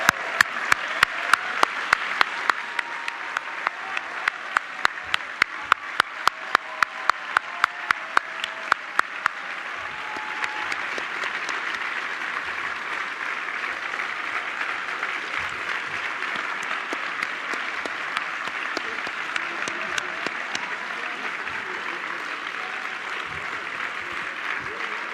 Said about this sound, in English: Could I ask our Dean's List students to stand up so we can give you a round of applause for this outstanding